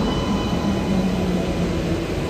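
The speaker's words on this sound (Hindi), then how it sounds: "गाजियाबाद शहर का WAP-5 लगता है नौचंदी एक्सप्रेस में।" The Nauchandi Express, an ICF-coach passenger train hauled by a WAP-5 electric locomotive, gives a steady, continuous rolling rumble with a faint high whine throughout, with no voices.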